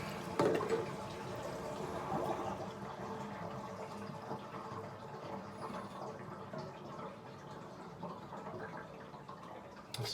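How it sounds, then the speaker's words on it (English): A full kitchen sink drains after pipe repairs under it, a steady gurgling, trickling rush of water flowing away at close range for about ten seconds. "I'm running through another sink full of water just to, you know, flush out the system, make sure that, you know, everything's clear."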